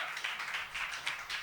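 A studio audience claps in welcome for the guest Andrea Greco, a short burst of fairly close, even applause with a quick steady patter of hands and no voices.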